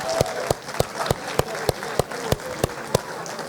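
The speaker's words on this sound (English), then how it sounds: "Give Sebastian a round of applause." Applause from an audience at a high school gathering, a steady patter of clapping with sharp, evenly spaced louder claps cutting through the crowd noise for the whole stretch.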